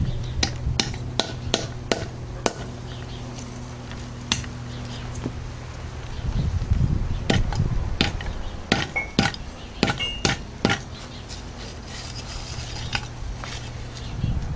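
Lumpwood charcoal struck with a hammer to break large lumps into smaller pieces, giving sharp irregular cracks and knocks, some in quick bursts, over a low steady background hum.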